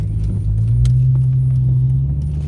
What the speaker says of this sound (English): Freaking truck about to hit me and everything